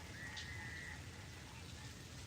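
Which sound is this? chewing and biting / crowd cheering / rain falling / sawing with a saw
rain falling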